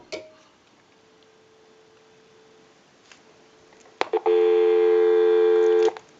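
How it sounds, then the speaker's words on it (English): An old French-style rotary telephone, converted after repair, plays a steady low dial tone, then a short click and a loud multi-tone ringback or busy-type signal that holds for about two seconds, with no voices. "Go ahead and give you some dial tone."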